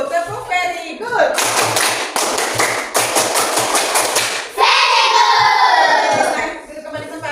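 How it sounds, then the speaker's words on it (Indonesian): A classroom of students claps hands together in loud, rapid bursts, with rhythmic group clapping, children's voices and shouts mixed in, and a brief cheer near the end. "Kita kasih tepuk tangan dulu untuk kelompok kinestetik."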